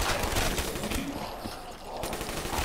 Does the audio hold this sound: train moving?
no